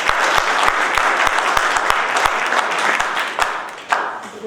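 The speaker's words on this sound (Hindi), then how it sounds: "लॉ 3rd ईयर, उनके लिए ताली।" Audience applause at a law college moot court event, with dense, loud hand clapping near the listener and some sharper individual claps standing out. It tapers slightly toward the end.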